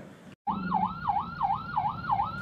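An ambulance siren wails in a steady rising-and-falling yelp after a brief silence, loud and close, repeating about every half second with road traffic rumble underneath.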